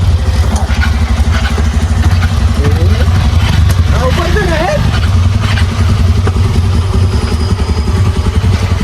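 A motorcycle engine runs steadily and loudly up close throughout, with a rough idling rumble, while people talk over it.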